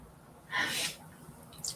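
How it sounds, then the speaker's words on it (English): A man sneezes once in another room, a single muffled burst from a distance, brief and soft, followed by quiet room tone. "You guys hear my husband sneezing in the other room?"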